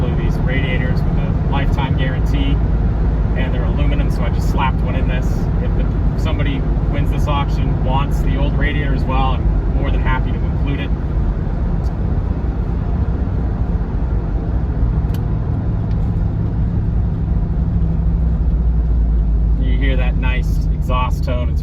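A 1982 Jeep Wagoneer Limited on the move, its engine and exhaust giving a steady, throaty low rumble throughout while someone talks over it for much of the time.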